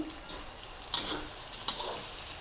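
Fermented Thai pork sausage (naem) fries with egg in a pan, a low sizzle broken by a few sharp scraping clicks of a spatula, with no voices.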